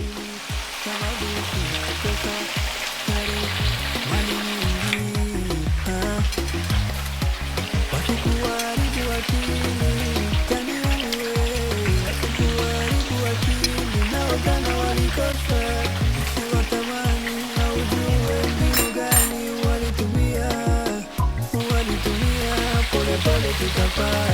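Beetroot bhajias frying in hot oil, a dense, continuous close-up sizzle and crackle that holds steady throughout, with occasional faint clinks of utensils and no talking.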